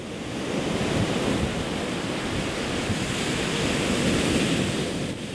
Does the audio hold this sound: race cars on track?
no